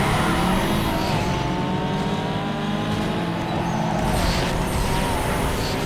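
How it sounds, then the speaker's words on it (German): An Audi in Need for Speed Underground 2 accelerates hard at full throttle with a loud, rising engine roar that runs unbroken through the gears, joined by brief tyre noise. "mein Audi hat Power ohne Ende. Dementsprechend werden wir ordentlich Vollgas geben."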